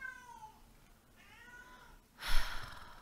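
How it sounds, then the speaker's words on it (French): A cat meows several times close by, drawn-out wavering cries followed by a louder, breathy burst at the end, with no talk over it. "Et ce chat."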